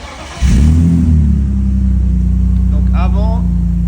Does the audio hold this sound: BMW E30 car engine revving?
yes